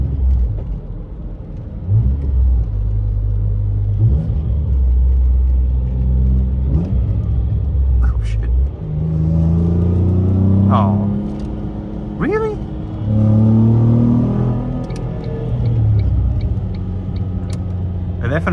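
A Ford Mondeo ST220 is driven at night on city streets, its engine rumbling and revving with throttle blips on downshifts, while someone talks over it throughout.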